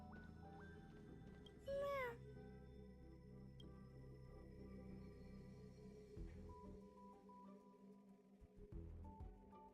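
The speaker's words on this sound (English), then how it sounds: "There's another kitty cat" A single short, bright cat meow rises out of quiet game music and ambient tones in Honkai: Star Rail, clear and close, while a faint voice murmurs elsewhere in the scene.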